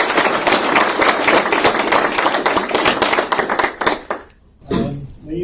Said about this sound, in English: First round of applause.